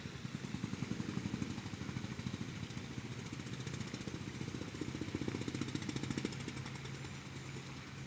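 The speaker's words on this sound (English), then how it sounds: "A car with serious engine problems." A rough, rapidly chugging engine runs steadily with a harsh, uneven rattle, sounding strained and sputtery throughout.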